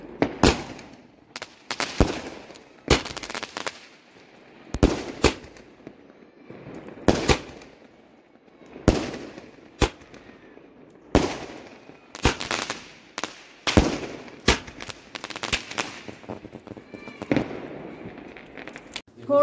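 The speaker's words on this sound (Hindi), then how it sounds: "फोड़ दिए हैं पटाखे" Diwali firecrackers burst repeatedly at irregular intervals, sharp loud cracks and pops scattered over a long stretch, some close and some farther off.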